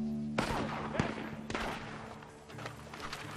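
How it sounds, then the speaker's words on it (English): Gunfire rings out from a barn in the video game Red Dead Redemption 2, a handful of sharp cracks spread irregularly over a few seconds, moderately distant and fairly faint. "Gunshots are coming from that barn!"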